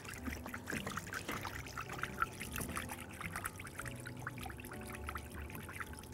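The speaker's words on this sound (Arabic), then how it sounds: "وادي الخل وادي زيت الزيتون" Vinegar and olive oil are poured into a beet salad dressing, giving a faint, continuous trickling splash across several seconds with small clinks from the kitchen.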